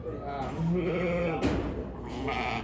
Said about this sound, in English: These little goats are so precious